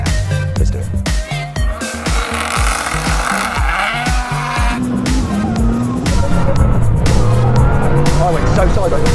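A Bugatti Chiron Super Sport and an 1800 hp Lamborghini launch in a drag race, engines roaring loud and close with tire squeal and skidding as one car goes sideways off the line, the roar building steadily throughout.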